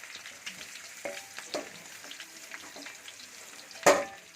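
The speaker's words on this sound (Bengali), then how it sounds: "একটু লাল লাল করে আলুগুলোকে ভেজে নেব" Quiet sizzling of potatoes frying in oil until reddish with occasional stirring clinks, ending in one sharp metallic clatter.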